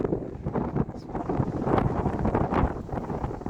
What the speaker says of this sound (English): It's going to be very windy now